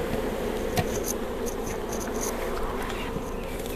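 Honey bees in a queenless hive set up as a queen-rearing cell builder, a close, dense, continuous buzzing drone with a few brief higher flutters and one faint knock.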